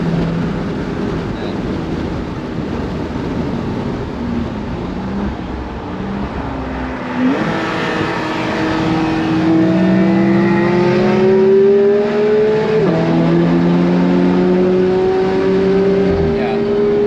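Car engine droning steadily on the Nürburgring while cruising hands-only, its pitch stepping up and down through gear changes and rising into a louder rev mid-run, with a voice talking over it.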